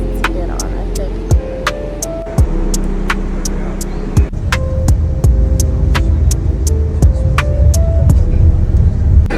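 A tour bus drives along on a Chichen Itza day trip from Xcaret, its engine a loud, steady rumble and hum with occasional surges, while repeated bright ticks sound over the drone.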